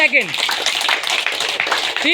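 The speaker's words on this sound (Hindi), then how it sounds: "अरुण सर के लिए तालियां बजा दीजिए एक बार जोरदार वाली।" A group claps for a birthday at an outdoor yoga session on the Yoga Deck in Jawahar Park, Aligarh; dense steady applause runs throughout, with a voice and whistling tones over it at the start and end.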